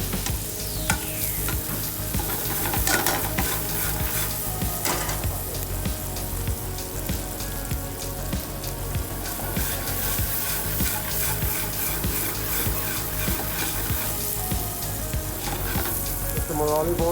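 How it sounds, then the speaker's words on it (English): Shrimp sizzling in olive oil in a pan for a restaurant-style creamy pesto fettuccine, a dense, loud, steady crackle and hiss with occasional stirring clinks, close and uninterrupted. "Some more olive oil. Let the shrimp cook some more."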